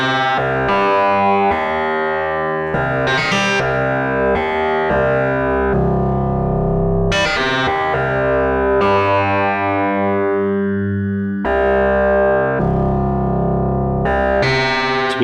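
Instruō Seashell analog synth module played with its diffuse control raised, giving bright, harmonically rich formant-like tones with a distorted, effected edge; sustained notes change pitch in stepped phrases with a few brief gaps, and nobody talks.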